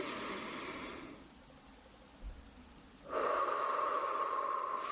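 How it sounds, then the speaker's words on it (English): A slow, deep breath in and out, close and soft: a hissy exhale fading to quiet, then a fuller airy breath swelling after a pause. "take a deep breath in and out"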